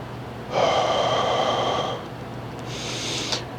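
Deep breaths during a stretching exercise, one long loud inhale or exhale followed by a softer second breath, close and alone over a low steady hum.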